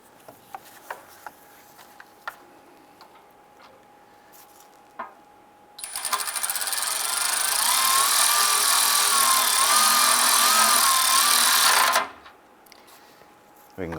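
A power tool runs for about six seconds as it snugs down a bolt on the oil pan of a 2002-2008 Dodge Ram 1500 pickup, a loud, sustained whine between quieter stretches with light clicks and handling noises.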